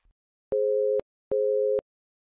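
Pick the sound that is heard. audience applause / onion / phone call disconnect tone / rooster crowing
phone call disconnect tone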